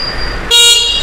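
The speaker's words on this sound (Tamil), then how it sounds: "ஹார்ன் வந்து நல்ல சவுண்டான ஹார்னாகவே இருக்குது." An electric bike horn sounds as one loud, steady beep that starts halfway through and holds for about half a second over a faint background hum.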